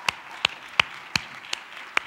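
A church congregation applauds its worship band with six crisp, evenly spaced claps at a slow, steady rhythm, each clap distinct against a quiet room, with no talking.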